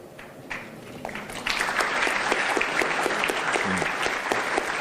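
Audience applause during a speech to a Malaysian diaspora gathering, a broad continuous clapping from a sizable crowd that swells and holds steady at a moderate distance.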